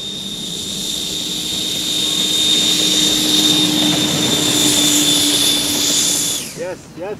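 A Viperjet MK2 radio-controlled jet airplane on its maiden flight, its turbine whining steadily and loudly with a high pitched tone for several seconds, then the roar cuts off abruptly near the end.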